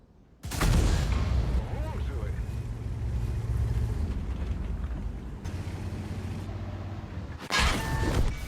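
A video game tank cannon blast booms suddenly and rumbles on into a long roar, then a second sharp blast hits near the end, with game sounds beneath.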